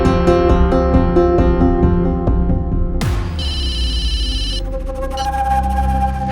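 A telephone rings repeatedly with a bright, electronic, musical ringtone pattern, loud and close, with no voices over it.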